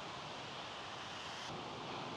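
A waterfall, steady broadband rushing roar with no breaks, moderately loud and continuous throughout.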